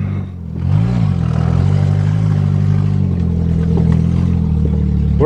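A Toyota Cressida car engine revs up and then holds a steady, loud mid-pitched drone, running close by with a slight rise and fall and no talk over it.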